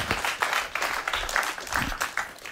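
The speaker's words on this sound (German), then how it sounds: "Nochmal einen herzlichen Applaus bitte für" Audience applause at a livestreamed remembrance event honoring a customs officer, a steady mass of clapping hands filling the room at fairly close range without pauses.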